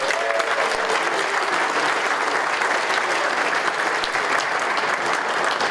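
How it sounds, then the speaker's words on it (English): A convention audience applauding its main sponsor AMD at an NAB tech event, a dense, steady roar of many hands clapping at even loudness from start to finish with no talk. "give a big round of applause to our main sponsor"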